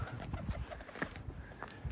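A runaway pigeon coos softly in short low murmurs outdoors, close by, with faint background noise and no speech.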